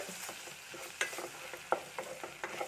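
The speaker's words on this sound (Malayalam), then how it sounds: "നല്ലപോലെ ഇതിൻ്റെ പച്ചച്ചുവ മാറുന്ന വരെ ഒന്ന് കൂട്ടി യോജിപ്പിക്കണം" Chilli powder and coriander powder stirred as they fry in a pan, a soft steady sizzle broken by several sharp scraping clicks of a spoon against the pan, close and alone.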